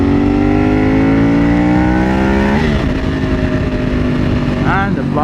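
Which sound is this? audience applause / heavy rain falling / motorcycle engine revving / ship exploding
motorcycle engine revving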